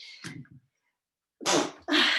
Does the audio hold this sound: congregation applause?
no